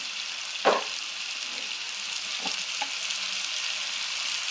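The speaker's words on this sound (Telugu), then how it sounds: "ఈ టమాటా కొంచెం మెత్తబడే వరకు వేయించుకుందాం" Tomatoes cooking with salt in an oiled pan give a steady, even hiss, with one clear stir or scrape near the start and a couple of softer ones later.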